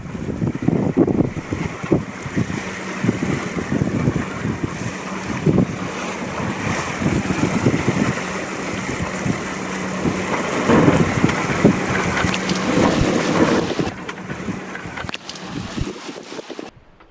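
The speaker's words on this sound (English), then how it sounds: "it's a blustery day" Strong 25-30 knot wind roaring over a sailboat on the Solent near Yarmouth, with constant buffeting across the microphone, sloshing waves and hull noise, no talking.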